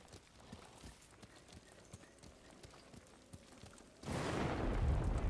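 Hooves of a horse ridden in Ghost of Tsushima clop in a quick, faint, regular rhythm, then give way to a louder rushing burst of noise near the end.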